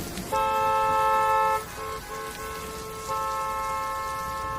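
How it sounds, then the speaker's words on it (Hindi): Car horns honking in a stalled traffic jam, steady multi-tone blasts sounding together, pausing briefly and then resuming, with rain-like background noise underneath. "कितना ट्रैफिक है, कोई हिल ही नहीं रहा।"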